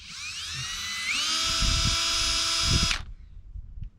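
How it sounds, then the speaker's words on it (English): An electric drill spins a rubber eraser wheel stripe remover for swapping vehicle badging, a loud close whine that rises in pitch as it speeds up, holds for a couple of seconds, then cuts off abruptly. "eraser tool. I think it's technically called like a stripe remover."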